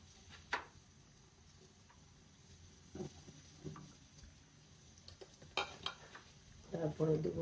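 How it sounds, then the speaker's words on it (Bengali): Dried chilies go into hot oil in a pan, giving a faint, steady sizzle broken by a few scattered clinks and scrapes of a spoon, with a louder burst of frying near the end. "এখন দিয়ে দেবো শুকনো মরিচ"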